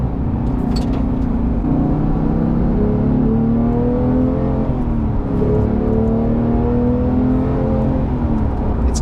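A Porsche 911 GT3 Touring engine revs hard while driving, its loud rising howl climbing through the gears with brief dips at each shift, steady and close with no talk.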